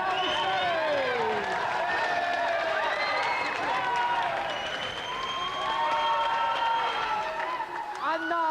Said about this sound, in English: Another round of applause for our champion, Alex.